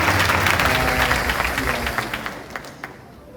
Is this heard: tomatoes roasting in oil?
no